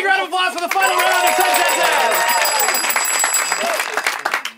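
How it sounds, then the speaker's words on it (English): An audience claps ahead of a final round, a bright spatter of applause that runs under louder voices talking and laughing nearby, then trails off near the end. "Big round of applause for the final round of"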